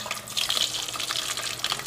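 Water pours in a steady splashing stream into a bowl of salted water for soaking plantain, close and continuous with no talk.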